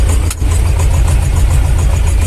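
A T-25 tractor hauling a trailer of corn, its engine running loud and close with a steady, knocking diesel chug and a short clatter near the start.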